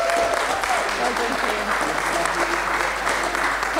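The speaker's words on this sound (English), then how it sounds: "a massive round of applause for Kian." An audience at a festival gives a warm, sustained round of applause, dense steady clapping throughout with a voice speaking over it.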